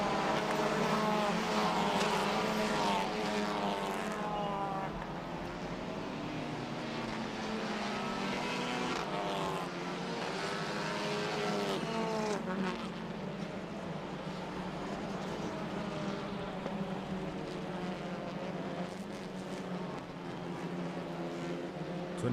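TCR South America touring race cars scream past on the track, high-revving engines rising and falling in overlapping waves with continuous loud engine drone throughout.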